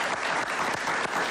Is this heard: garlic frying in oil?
no